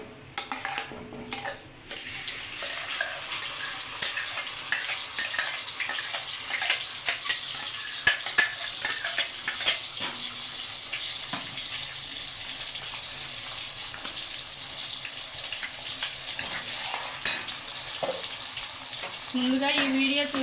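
Prawns fry in a pan with a ground onion and tomato paste, a steady sizzle running under repeated scraping and clattering of a spoon against the pan, with brief louder knocks scattered throughout.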